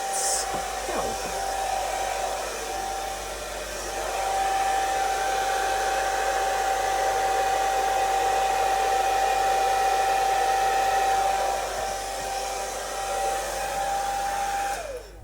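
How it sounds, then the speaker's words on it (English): A hairdryer blows across an acrylic paint pour of a blue ruffled flower, a continuous loud whooshing hiss with a steady motor whine that swells slightly and holds for about fifteen seconds before cutting off. "now on to my previous nemesis, the hairdryer"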